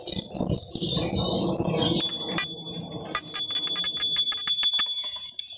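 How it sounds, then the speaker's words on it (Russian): Small bells rung to prompt a pet canary to sing, giving a rapid run of bright, ringing jingles close by, preceded by rustling handling noise, with no talk. "еще помимо колокольчиков, таких вот чудесных колокольчиков"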